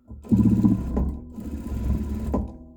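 A sewing machine stitches a trouser hem about 0.2 cm from the edge with a backstitch, giving a close, steady mechanical whirr that briefly pauses and restarts as it reverses, heard alone for under three seconds.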